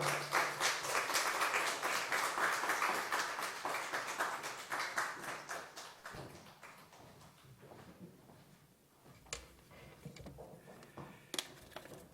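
Church audience applauding at a Holy Week revival service to welcome the preaching bishop, a dense, loud burst of clapping that fades after about six seconds into scattered claps and room noise.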